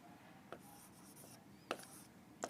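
Marker or chalk scratches across a board during a trigonometry lecture, with a few short, faint strokes spaced out over a quiet room and no talking.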